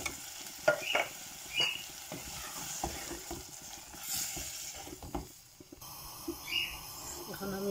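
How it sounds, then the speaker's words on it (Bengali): Tomatoes fry with shrimp in a pan while being stirred, producing a soft sizzle with intermittent scraping and clinking, faint overall and with occasional quiet background sounds. "এখন আমি বালা করে লাড়াচাড়া করলাম"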